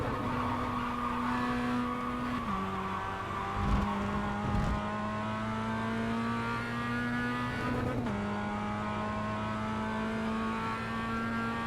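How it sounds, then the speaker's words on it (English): A race car engine heard from inside the car during a race start drones loudly and continuously, with abrupt pitch drops at two clumsy, poorly timed gear changes. "What you just heard me doing as well in the car was poorly timed gear changes."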